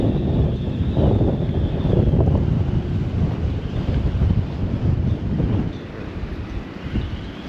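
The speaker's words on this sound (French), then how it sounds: "On a des embruns qui rentrent directement dans le... Ça souffle. Pour le 4, c'est un endroit qui souffle." Storm-force wind roaring across a sailboat at sea, with dense, continuous buffeting rumble and hiss from gusts and spray, loud and unbroken for the whole stretch, easing slightly toward the end.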